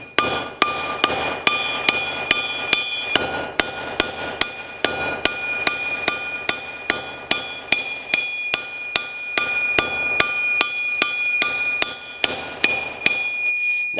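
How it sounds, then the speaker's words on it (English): Sharp metallic strikes of a small utility hammer flattening copper wire ring out in a steady, rapid rhythm, dozens of bright clinks at close range, with no talking. "taking my little utility hammer here, and I'm going to flatten this out here"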